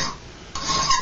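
A hand file rasps across a forged steel knife, making short, close scraping strokes that brighten and grow louder in the second half.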